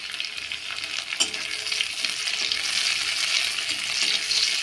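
Onions and chopped green chillies frying in a pan while being stirred, a steady broadband sizzle with a few soft clinks of a spoon against the pan, close and continuous without any voice.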